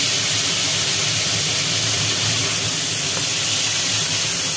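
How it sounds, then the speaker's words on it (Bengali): Chopped potatoes frying in hot oil seasoned with black cumin for a vegetarian poppy-seed dish give a loud, steady, close sizzle that hisses without a break. "ওর মধ্যে ঢেলে দেওয়া হলো কুচনো আলু।"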